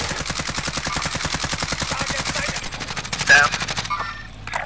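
Rapid automatic gunfire from the video game Warzone, a dense steady burst of close, loud shots that runs for several seconds before cutting off into quieter game sounds.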